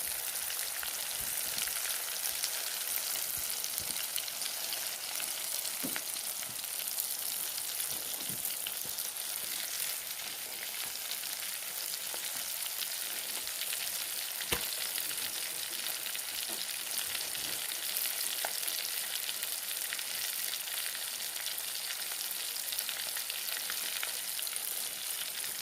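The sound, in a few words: mangada fish frying in a pan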